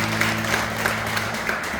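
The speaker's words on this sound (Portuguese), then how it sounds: "Vamos aplaudir a palavra do nosso Deus?" A church congregation applauding after a scripture reading during a sermon, steady close clapping from many hands with a low hum underneath, brief and continuous.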